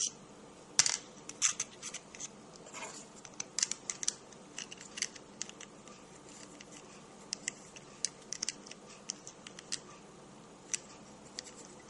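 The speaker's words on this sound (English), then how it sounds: "I'm just going to take just one of the washers off." Small metal clicks and light taps from removing a washer on a RepRapPro Huxley 3D printer, a scatter of sharp close ticks over a quiet background with no talk.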